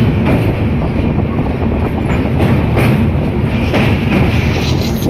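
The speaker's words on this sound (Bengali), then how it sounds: "এইটা হচ্ছে হাওড়া দুরন্ত সিএসটি, হাওড়া মুম্বাই দুরন্ত সিএসটি, মানে এটা এখন পাস করছে" Howrah-Mumbai Duronto express train passing through Kharagpur station, a continuous loud roar of rolling wagons with rhythmic wheel clatter, heard close by from a halted train with no talk.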